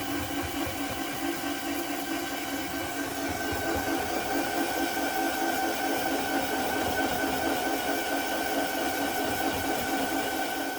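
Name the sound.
tumbler running to polish vintage German swirl marble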